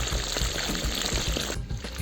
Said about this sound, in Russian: И также жарим 12 минут.